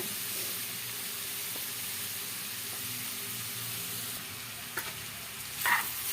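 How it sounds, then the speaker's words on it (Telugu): Chopped red onions are stirred into a radish pickle in a hot pan, giving a soft continuous sizzle and hiss with faint scraping, quiet and close, with a brief clatter near the end. "ఎర్రగడ్డలు మనం కోసుకున్న అన్నీ వేసుకొని బాగా మిక్స్ కొట్టుకోండి"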